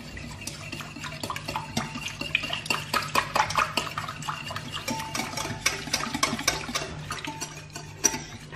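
Eggs are mixed with the first dough ingredients for doughnuts in a bowl, producing busy, close clinking and scraping from a utensil against the bowl in a quick, uneven rhythm, with no talking.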